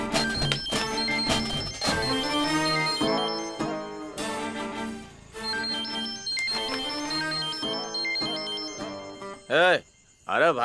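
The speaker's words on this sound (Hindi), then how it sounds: "अरे भाई का फोन बज रहा है," A melodic phone ringtone plays loudly over music and voices in a Hindi-dubbed South Indian movie, with a short warbling ring tone near the end.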